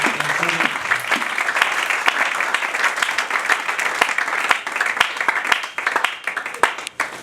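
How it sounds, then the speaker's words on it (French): A church congregation claps loudly and continuously in a dense, sustained round of applause, with crowd voices mixed in. "Acclamons très fort pour le Seigneur."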